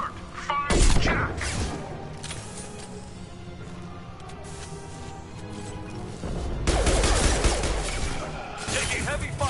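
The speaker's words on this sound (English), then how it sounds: "Taking heavy fire!" Heavy gunfire and crashing impacts fill a Mass Effect 2 battle, with a loud burst near the start and a dense, sustained barrage later, under shouted voices.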